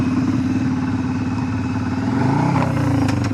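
Motorcycle engine running steadily while riding, a continuous close mid-pitched drone with rising revs near the end; no speech.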